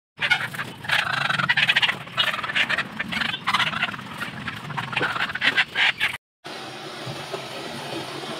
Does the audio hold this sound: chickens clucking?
yes